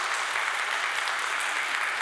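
A church congregation at Sunday service claps in thanks, an even, continuous patter of many hands at moderate volume, with no talk heard during it.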